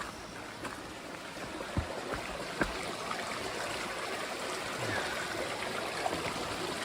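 A mountain stream on the Appalachian Trail rushes and gurgles steadily nearby, a continuous broadband wash with a few small splashes and no talking.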